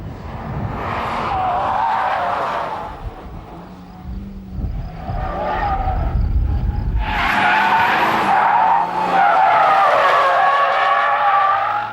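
Mitsubishi Lancer Evolution 9 sliding on a race circuit, tyres skidding and squealing loudly and continuously over the engine note, with a brief easing midway before the slide builds again.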